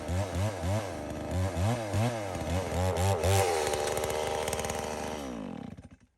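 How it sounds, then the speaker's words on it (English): Chainsaw ream bucking a log, the engine revving in rapid repeated pulses as the bar cuts, then holding a steady high whine before winding down and stopping, loud and close. "I start to ream buck, which is something I learned from the redwood loggers, and it makes the kerf bigger on the bottom so your bar don't get stuck"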